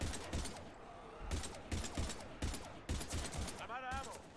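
Mass Effect 3 gameplay gunfire sounds in repeated bursts within a loud, dense battle mix. Sustained noise and a short warbling electronic tone come near the end.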